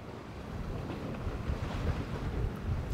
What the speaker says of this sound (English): It's always a bit windy here.